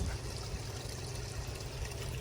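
Backyard pond pump outlet water pours steadily back into the pond, a close, constant splashing trickle with no pauses and no voices.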